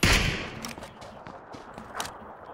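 Gunfire in PUBG Battlegrounds, a loud burst at the start followed by a string of lighter shots and impacts, some distant, with busy game ambience underneath.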